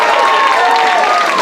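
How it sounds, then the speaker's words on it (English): Audience applause closing an improv scene: a steady, dense wash of clapping from a crowd, loud and close throughout the short burst. "If they have survived the scene, they get the applause."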